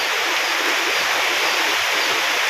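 Floodwater rushes hard and steadily on a farm after three days of nonstop heavy rain, a loud, continuous roar with no pauses.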